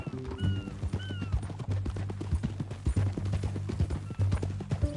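Steady clip-clop of horse hooves in Red Dead Redemption 2, close and rhythmic over a low droning music bed, with a couple of brief whinny-like rising tones early on.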